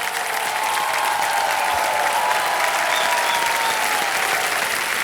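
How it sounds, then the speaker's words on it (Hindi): Studio audience on the Indian TV quiz show Kaun Banega Crorepati applauds steadily, a sustained, even roar of many hands clapping with faint music underneath. "ताली बज जाए इनके लिए"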